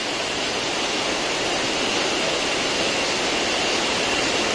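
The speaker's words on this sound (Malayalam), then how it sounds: "പുഴ ഇങ്ങനെ നമ്മുടെ സൈഡിൽ കൂടി ഇങ്ങനെ ഒഴുകുന്നുണ്ട്" A river flowing beside Palaruvi waterfall, a dense, steady roar of rushing water close by, constant in loudness with no voices.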